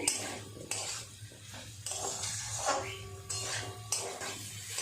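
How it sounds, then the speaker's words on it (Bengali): Spices being stirred and mixed in a pan, with scraping and clinking of a spatula against metal at irregular intervals over a low sizzle, close and moderate, with no talk. "এইভাবে নেড়ে চেড়ে খুব ভালো করে মিশিয়ে নেব"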